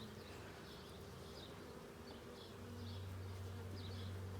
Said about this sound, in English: Yes, this box is full of bees.